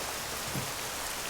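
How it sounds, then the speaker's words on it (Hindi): Steady rain pouring down in a dramatic outdoor scene, a dense, even hiss of drops hitting surfaces close by, with no voices over it. "मेरी बाइक में पेट्रोल खत्म हो गया है, बारिश भी होने लगी"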